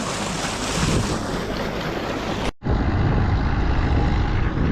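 Water gushes steadily into a flooded paddy field as it is puddled with a 575 tractor ahead of rice transplanting, a loud continuous rushing broken by one brief cut partway through.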